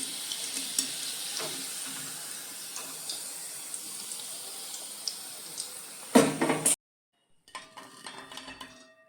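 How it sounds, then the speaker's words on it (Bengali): Chicken balls deep frying in hot oil, a steady close sizzle with small crackles and a few utensil clinks, then a brief louder burst before the frying goes quieter. "এরকম ডিপ ফ্রাই করে তুলে নিতে হবে।"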